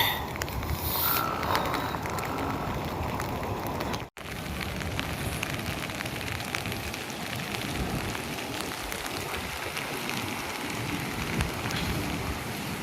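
Heavy rain pours steadily and densely over a flooded village, a constant broadband hiss of drops on surfaces that continues without pause apart from one brief dropout.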